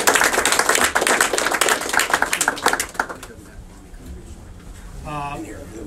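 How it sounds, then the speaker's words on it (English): Crowd applause at a military medal ceremony, brisk clapping for about three seconds that then fades out, with a short spoken voice afterward. "One more round of applause, guys."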